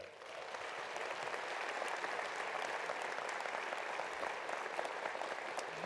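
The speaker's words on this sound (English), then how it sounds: "How about a round of applause for all of them?" A commencement audience applauds university officials in a large hall, a dense, steady wash of many hands clapping from start to finish with a faint scattered cheer, no talk over it.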